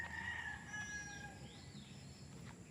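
Fighting cocks on a farm crow from a distance: a few drawn-out calls over a steady hiss of background noise, quiet and without speech.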